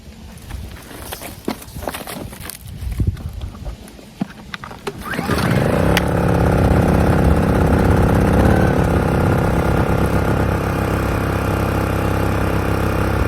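A Honda 1100-watt inverter generator outdoors at an off-grid cabin: footsteps and handling first, then a pull start catching at about five seconds and settling into a steady, close, even running hum.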